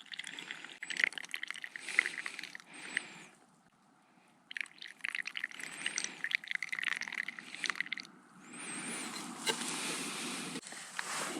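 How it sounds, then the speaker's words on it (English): Freshly brewed coffee pours out of a bag outdoors in Lofoten, a soft splashing trickle in uneven bursts with a pause midway, fairly faint and close. "Just pour it out there."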